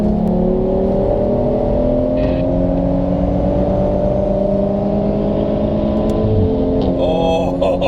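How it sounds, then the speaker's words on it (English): A Volkswagen Golf R accelerates hard in a drag race, a loud, sustained engine drone with rising tones heard close up, steady and dominant throughout. "we had a little drag race"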